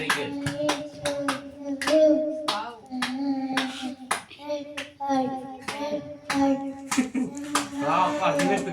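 A baby's hands clap in quick, uneven bursts close by, mixed with a voice and an adult speaking between the claps.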